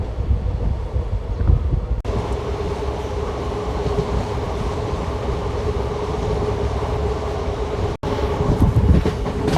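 Garudadri Express train running from Tirupati to Chennai, a steady loud rumble of wheels on rails with a constant drone and wind buffeting, continuous with brief dips near the start and end.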